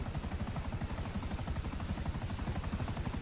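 A Buzzard combat helicopter in Grand Theft Auto V beats with a rapid, regular rotor chop, a steady rhythmic thumping that continues evenly at moderate level with no voices over it.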